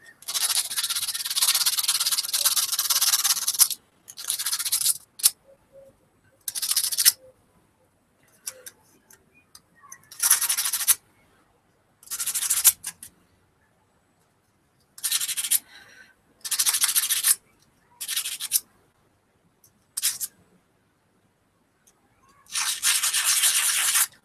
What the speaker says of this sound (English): An awful lot of polishing.